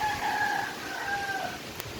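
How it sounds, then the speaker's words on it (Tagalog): Rooster crows inside a farm chicken coop, a clear two-part call in the middle distance over a low background of clucking hens, with a short sharp knock near the end. "Ito nga pala yung manukan."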